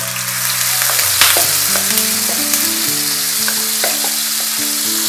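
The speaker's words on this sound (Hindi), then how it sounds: "मैंने फ्राई पैन को चूल्हे पे रख के इसमें 2 से 3 खाने के चमचे ऑयल डाला है और ये चिकन मैं अब इसमें डाल दूंगी" Chicken pieces sizzle loudly in two to three tablespoons of hot oil in a frying pan on a stove. A steady, close frying crackle carries on throughout, with no talking.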